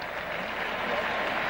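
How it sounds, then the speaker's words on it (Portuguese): Stadium crowd applauding as a player is substituted at a 1999 Copa Libertadores match between Cerro Porteño and Corinthians, a dense, steady wash of clapping from a large distant crowd. "Aí os aplausos da torcida para o Gavilã"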